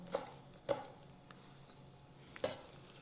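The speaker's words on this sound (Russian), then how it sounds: "Дальше нарезаем мяту." A knife chopping mint strikes a cutting board in three sharp, isolated chops spaced unevenly apart, close and fairly quiet against a soft room background.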